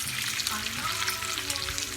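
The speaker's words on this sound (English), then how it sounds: "I'm frying some bacon." Bacon sizzles and crackles steadily in a hot pan, a dense hiss with scattered pops, close and fairly loud, with no talking.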